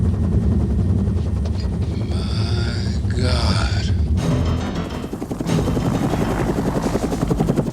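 A helicopter arrives for a rescue in a film scene, a heavy, continuous rotor thump mixed with gunfire bursts and shouted grunts, loud and close throughout.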